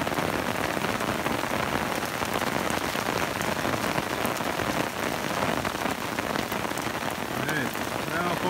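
Steady, dense rain patters on umbrellas in a plum orchard during Grosse Felicija plum picking, a continuous even hiss with no voices.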